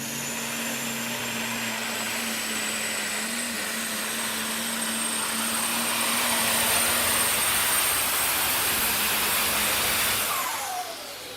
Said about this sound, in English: That's good running tractor.